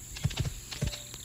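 Galloping horse hooves in the Roblox video game: a few quick, faint clip-clop thuds in an uneven rhythm, with no talking.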